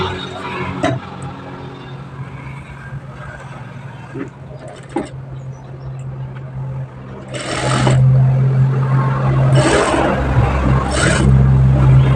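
Sewing machine stitching along a sleeve edge, its close mechanical whir starting quietly and then running louder and steadier in the second half, with short bursts of higher whine and faint handling noises in between.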